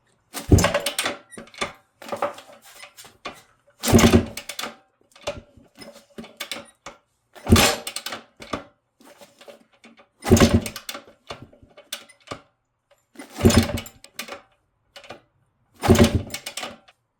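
A 1978 Yamaha YZ400 engine, with oil added to the cylinder and the throttle open, is turned over for a compression test: repeated loud bursts of cranking and chuffing arrive about every three seconds, with mechanical clatter in the gaps.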